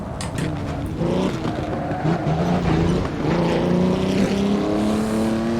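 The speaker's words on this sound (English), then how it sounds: "We have a V16 engine in the back, and you'll notice it's a rear engine car." A 1936 rear-engined V16 race car in Assetto Corsa, its engine a loud, steady, buzzing drone that climbs in pitch through the gears, close and with no talk.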